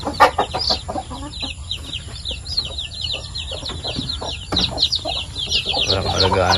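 Young chicks in a poultry pen give dense, rapid high peeps over a fuller layer of clucking hens, close and busy throughout, with a few brief knocks and thumps.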